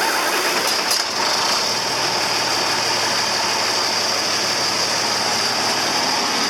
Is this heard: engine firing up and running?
yes